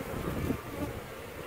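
Dense buzzing of many honeybees crowding an aquarium observation hive, a steady close hum with no pauses.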